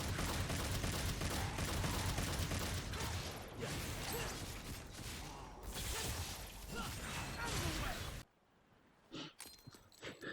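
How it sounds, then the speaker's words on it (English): Rapid gunfire from Nero's gun in Devil May Cry 5 rings out in a repeated shoot-and-jump rhythm, loud amid dense combat effects, then cuts to near silence with a few faint hits at the end. "You shoot one time, jump immediately after, shoot, and repeat over and over"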